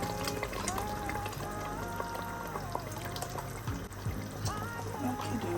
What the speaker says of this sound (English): I will go ahead and add my coconut milk